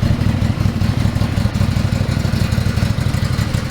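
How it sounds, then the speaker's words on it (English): A Can-Am Maverick XMR UTV engine idles steadily at close range, a low throbbing exhaust rumble with a faint rattle, no voices. "Of course, the exhaust, it's not a bad idle."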